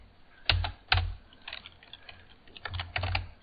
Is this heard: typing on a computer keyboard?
yes